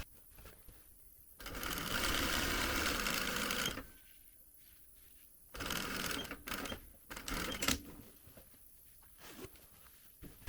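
Sewing machine topstitching along a zip fly, two close bursts of rapid stitching, the first a steady two-second run, the second broken into short uneven spurts, with quiet pauses between.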